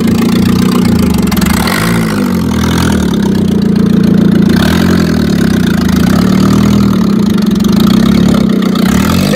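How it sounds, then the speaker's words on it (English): Car on the Mongol Rally idling loudly with its exhaust hanging loose and unmuffled, a raw, throbbing drone that holds steady with slight wavering rises, close and with no talk over it. "That's our exhaust, and it's just sort of hanging there and chilling out and not muffling like it should be."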